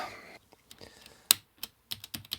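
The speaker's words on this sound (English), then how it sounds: "these clip in much easier than the later keyboard models actually" Plastic keycaps snapping onto an early Amiga 500 keyboard during a restoration, a series of sharp, close clicks at irregular intervals with soft handling noise between.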